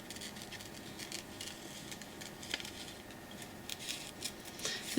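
Scissors snip a lipstick picture out of a glossy magazine page: quiet, irregular paper cuts and small rustles at close range, with a few sharper clicks of the blades.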